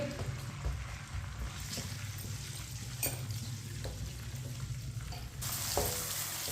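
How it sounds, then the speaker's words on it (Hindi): Chopped garlic and onion fry in a pan over medium heat, a steady close sizzle with occasional stirring scrapes and a brighter hiss rising near the end; no one speaks. "मीडियम आंच पर हल्का सा ब्राउन कर लेंगे लहसुन और प्याज को।"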